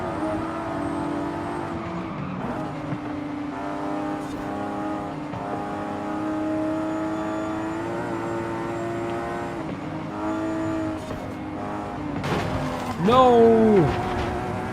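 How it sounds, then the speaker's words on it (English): Turbocharged car engine in Forza Horizon 5 holds a steady revving drone with shifting pitch throughout, rising to a louder surge near the end, with some talk layered over it. "The turbo sounds pretty good, but I still prefer the supercharger sound."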